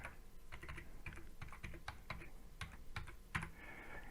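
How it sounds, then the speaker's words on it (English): Faint, close clicks and taps of a phone number being keyed in on a mobile phone, a string of irregular presses over about four seconds in a quiet setting. "you just type in TT, then your full mobile number without any spaces,"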